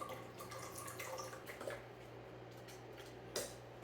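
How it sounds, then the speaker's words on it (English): Apple cider vinegar pours into a pot on medium heat for homemade ketchup, a faint, steady liquid trickle with a couple of soft drips over low background hum. "I'm going to add about a quarter cup apple cider vinegar"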